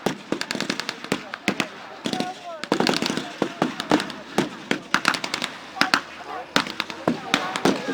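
Gunfire from a close-range WWII battle reenactment firefight between German and American troops at History Live! 2014 crackles in dense, irregular bursts of sharp shots, some overlapping in rapid volleys and others spaced apart, loud and near.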